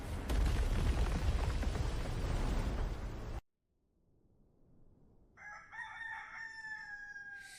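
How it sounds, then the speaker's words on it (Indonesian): A loud rumbling burst cuts off abruptly, then after a quiet pause a rooster crows with a long, rising, harmonic call. "Kok udah ada suara ayam berkokok?"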